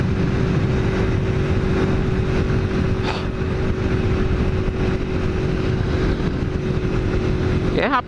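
A motorcycle engine drones steadily under strong wind rush while climbing a mountain highway at about 90, holding a constant pitch throughout, close and loud, with no clear speech.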